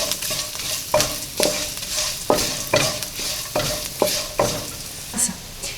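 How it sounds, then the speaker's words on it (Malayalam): Turmeric powder being stirred into a frying broken wheat upma base in a pan, with repeated scraping strokes of a spoon against the pan over a soft steady sizzle, close and alone. "ഇളക്കി കൊടുക്കുക."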